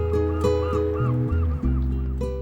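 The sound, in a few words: geese or ducks calling on the Côte de Granit Rose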